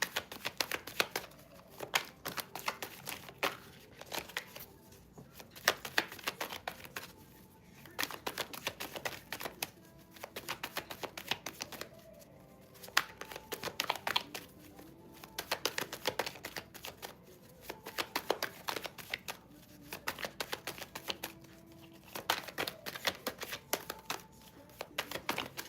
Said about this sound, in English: I was shuffling that for a while